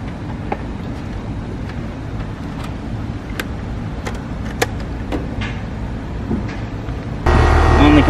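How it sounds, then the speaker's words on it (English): An air conditioner compressor kicks on near the end, a sudden loud steady hum that follows a quieter stretch of faint rustling and scattered clicks. "Let's go ahead and turn it on and make sure that the amperage is good on it, on the compressor"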